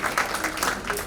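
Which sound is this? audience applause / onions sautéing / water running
audience applause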